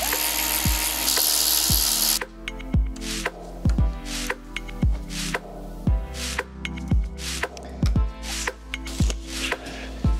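Bolts on a Webasto diesel heater pump for a VW Caddy are driven in with a power tool, first a continuous whir, then a series of short, sharp ratcheting bursts with clicks between them, loud and close.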